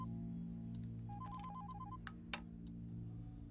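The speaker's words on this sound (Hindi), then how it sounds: "दिल्ली से फोन आ रहे हैं। बजने दो।" A telephone rings in an office, a quick warbling electronic trill in short repeated bursts, faint and set against a steady low room hum, followed by a couple of soft knocks.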